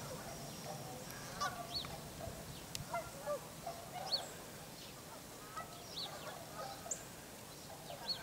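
Geese honk repeatedly at a distance among other wildfowl, scattered calls rising over a steady outdoor wind-like rumble, with occasional louder honks standing out.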